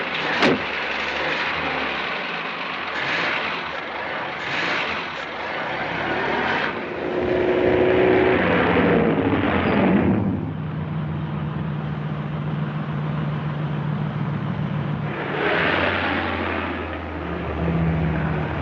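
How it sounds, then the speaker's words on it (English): A 1930s car driving, its engine a steady loud rumble that rises and falls over nearly twenty seconds, with no voices. "Tom and I will follow that car."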